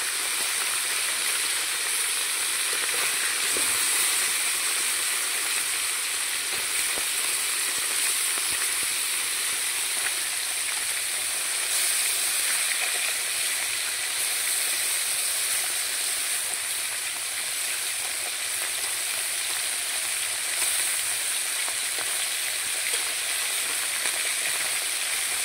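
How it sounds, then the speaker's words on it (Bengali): Fish fries in hot oil in a wok, a steady bright sizzle and hiss that runs evenly throughout at moderate loudness, with no talking. "মাছের এক সাইড ভাজা হয়ে গেছে, এখন আমরা উল্টাই নেব।"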